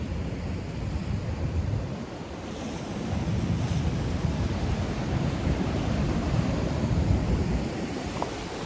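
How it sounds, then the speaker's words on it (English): Ocean surf with the tide coming in rolls and washes steadily along the shore, a broad continuous roar mixed with gusty wind buffeting the microphone, with no talking. "tide is coming up."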